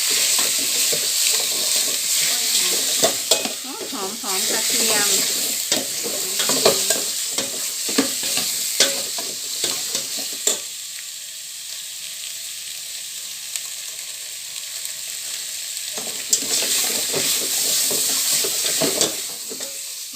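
Pork belly fries and sizzles in a pan while being stirred, with a bright steady hiss broken by frequent scraping and clatter of a utensil. A quieter sizzling stretch comes midway before the stirring resumes, all close and with no talking.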